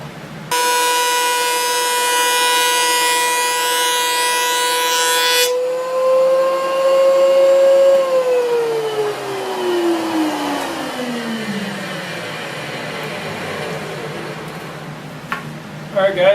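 A thickness planer feeds a board down to 3/4 inch, loud whining motor with a dense buzzing tone that cuts off, then a descending pitch as the machine spins down, close and without talk.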